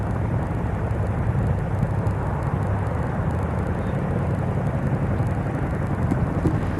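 Chinook military helicopters flying during an Indian Air Force exercise at Pokhran, a steady loud rotor and engine roar that holds unbroken throughout with no speech.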